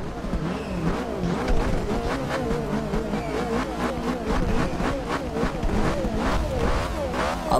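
Ariel Atom V8 race car engine from Forza Horizon 2 revving hard and continuously under load, a loud sustained roar with rising and falling pitch as it shifts, tires squealing briefly.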